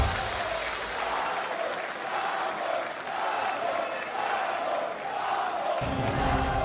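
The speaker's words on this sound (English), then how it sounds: "The crowd is electric." Esports grand-final crowd at a Brawl Stars tournament roars with sustained applause and cheering that swells in waves, a caster's voice faintly mixed in.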